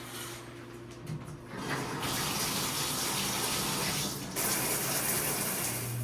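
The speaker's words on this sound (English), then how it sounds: "I am now going to take a shower." Shower water running steadily in a home bathroom, a continuous hiss that starts faintly and grows fuller, close and alone without talk.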